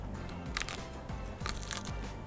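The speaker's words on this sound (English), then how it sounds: "Listen to that crunch." Crisp crunching bites into sticky, crispy Korean-style chicken wings, a few sharp crackly crunches close to the mic with chewing in between, no talking.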